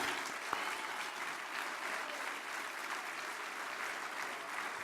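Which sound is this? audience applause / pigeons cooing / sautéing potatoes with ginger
audience applause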